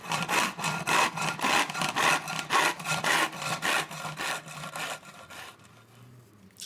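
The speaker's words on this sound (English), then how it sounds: "now I can mark it directly off the box and cut it to size" Hand saw cutting an oversized wooden box lid to size: about a dozen steady, rhythmic back-and-forth rasping strokes close up, fading out as the cut finishes, with nobody talking.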